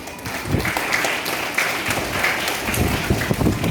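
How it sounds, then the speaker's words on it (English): Students clapping at a school spell bee contest, a fairly loud, uneven round of applause with some low rumble and crowd noise underneath throughout. "A big round of applause for them. Clapping students."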